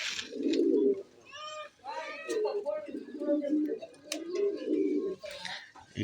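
Domestic pigeons, a breeding pair with young, coo in low repeated bursts close by, under someone talking in Bengali through most of the stretch.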